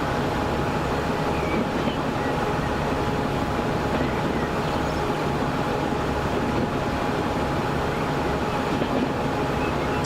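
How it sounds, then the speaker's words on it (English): A train runs along a rail line in the video game Transport Fever 2, giving a steady, continuous rumble and rolling noise that lasts the whole time without a break. "So we've got our new train line going."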